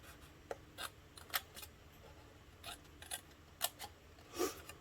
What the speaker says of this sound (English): I'm going to cut up each one of those score lines to that score line there